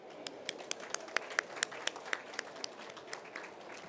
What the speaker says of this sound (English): we have a special round of applause for Tatiana Rosito